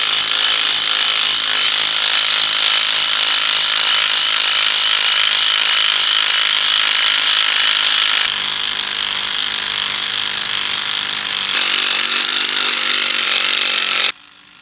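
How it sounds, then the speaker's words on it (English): A harsh, steady grinding whine of a power drill with an auger bit boring closely spaced holes, continuous and loud, shifting tone slightly partway through before cutting off. "you simply drill as many holes as you can close to each other"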